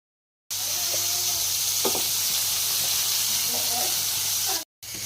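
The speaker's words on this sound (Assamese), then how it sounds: "মই ফাৰ্ষ্ট কেঁকুৰাখিনি ভাজি লৈছোঁ" Crabs frying in hot oil, giving a steady, close sizzle throughout with occasional spatters and stirring clatter, followed by a brief cut near the end.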